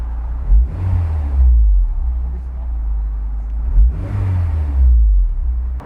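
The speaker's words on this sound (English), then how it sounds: "I'll rev it a little bit, and you tell me if there are any like strange sounds." A Honda S2000 engine revved twice in its bay, each rev a loud rising roar that falls back to a steady idle rumble, close by.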